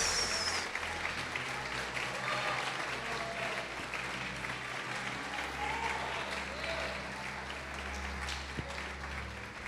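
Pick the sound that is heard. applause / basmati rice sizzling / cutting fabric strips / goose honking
applause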